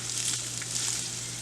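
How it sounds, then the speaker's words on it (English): Refrigerated cooked rice fries with sausage in a pan over medium heat, giving a short, steady, even sizzle heard alone. "I'm going to turn this up to medium. Add in our rice."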